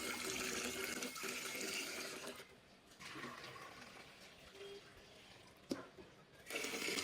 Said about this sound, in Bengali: এখানে চাল আর ডাল মিক্স করে ধুয়ে নিচ্ছি।